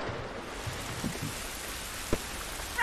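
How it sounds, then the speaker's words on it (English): Steady rain falls outdoors in The Last of Us, a soft continuous patter with a few sharper drips and splashes close by, no voices. "This rain ain't gonna do us any good."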